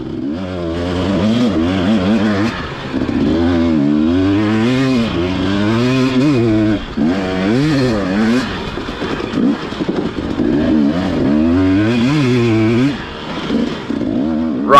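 A dirt motorcycle racing through a sandy, twisty enduro test, its engine loud and close, revving up and down in quick waves through the tight turns, with short drops as the throttle is let off.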